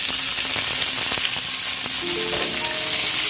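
Mudakathan greens sizzle and fry steadily in a pan for a Tamil thuvaiyal, a constant close crackle with a few light stirring clinks near the end.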